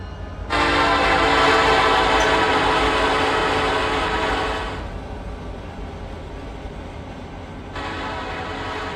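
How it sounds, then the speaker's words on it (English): A Norfolk Southern coal train roars past on a main line toward Harrisburg, Pennsylvania in Run8 Train Simulator, with a loud, blaring horn blast lasting several seconds, then a second horn note starting near the end over steady rolling rumble. "So while that coal train goes screaming past on the main line heading towards Harrisburg, Pennsylvania"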